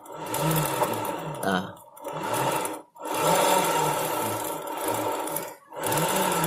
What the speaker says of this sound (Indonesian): motor itu jalan ada suara kemerosong ya di bagian CVT-nya itu.